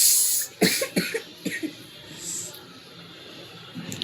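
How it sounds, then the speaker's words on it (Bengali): Children coughing in short bursts, several harsh coughs close by in the first half, then quieter breathing and rustling, with rain falling outside. "ওরা ঘাক ঘাক করে কাশছে।"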